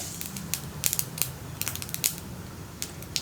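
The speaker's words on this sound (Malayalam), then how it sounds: "കടുകൊന്ന് പൊട്ടി തുടങ്ങട്ടെ." Small sharp pops and crackles of mustard seeds bursting in hot oil come irregularly over a faint low background, with no voices.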